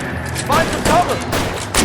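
Gunfire from a Los Angeles police shootout in LA Noire, a few sharp bursts of shots spaced across the moment, mixed with shouting voices and game ambience.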